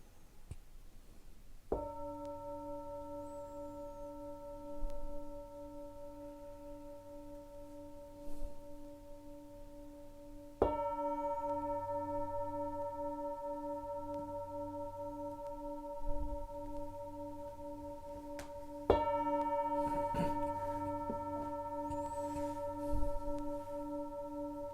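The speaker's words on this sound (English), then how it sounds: "as you hear the gong slowly coming out" A meditation gong is struck three times, each stroke ringing with a sustained, shimmering tone that slowly fades in a quiet room.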